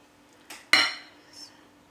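Zucchini bread batter mixed in a bowl: a light scrape followed by a single sharp clink of a utensil against the bowl, then a faint soft scrape, close and alone.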